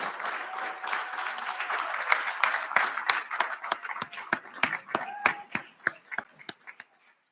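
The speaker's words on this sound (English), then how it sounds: "Give yourselves a round of applause." Crowd applause for new college alumni at a recognition ceremony, fairly faint and dense at first, then thinning into a few sharp, separate claps before it dies away.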